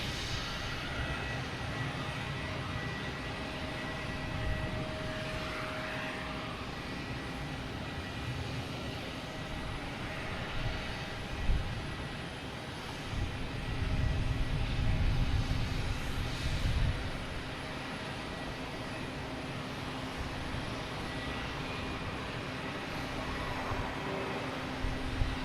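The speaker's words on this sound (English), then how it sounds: "Next to take off is JetBlue's Vets in blue livery. Heading to Phoenix in A320." A JetBlue Airbus A320 in Vets in Blue livery takes off at Boston Logan, heard as a distant, steady engine rumble and hiss that swells slightly midway, with no talk over it.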